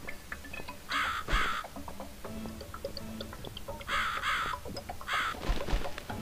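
A bird caws in the dark adventure game The Cat Lady, giving several harsh, raspy calls in spaced bursts over a murky ambient backdrop with scattered clicks and thumps.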